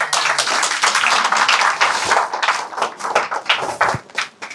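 A church congregation applauding during a sermon, a dense burst of many hands clapping that thins out and scatters toward the end, close and loud.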